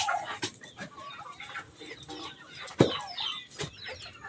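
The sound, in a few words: chickens and turkeys clucking while waiting for feed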